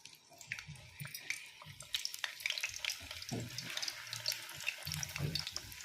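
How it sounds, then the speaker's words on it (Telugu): Frozen pizza pockets crackle quietly in hot oil, a soft intermittent sizzle with scattered pops and faint stirring clatter, heard close but low in level with no voices. "ఇప్పుడు ఫ్రై చేస్తున్నానండి"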